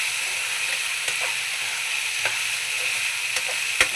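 Potatoes stirred in a hot pan with spices, salt and turmeric, a steady close sizzle of frying with a few soft scraping clicks of the spoon against the pan.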